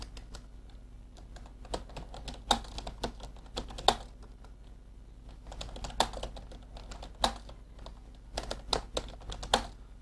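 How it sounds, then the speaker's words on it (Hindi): Typing text on a computer keyboard in a WordPad tutorial, steady close key clicks in irregular bursts with occasional louder keystrokes, no voices over it. "यहाँ पर नोट पैड की ही तरह हम यहाँ पर भी कोई तहरीर टाइप कर लेते हैं"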